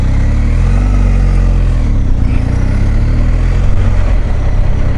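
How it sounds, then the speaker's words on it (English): A BMW R1250 GS HP motorcycle engine runs loud and close during a ride, a steady low rumble with continuous wind and road noise and no speech. "I can hear that there's mechanical things going on in the engine"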